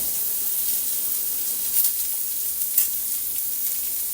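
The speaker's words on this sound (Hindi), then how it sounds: "प्याज को बिल्कुल गोल्डन ब्राउन कर दूंगी।" Onions sizzle steadily in hot oil, a bright continuous hiss with a couple of faint stirring scrapes, close and with no voices.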